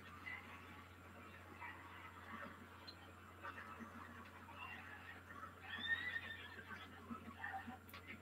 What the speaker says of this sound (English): the horse is getting freaked out by the zombies